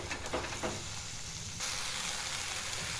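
A spice masala with a little sugar fries in a pan for a vegetarian potato curry, giving a steady, close sizzle with a few stirring knocks early on and no voices.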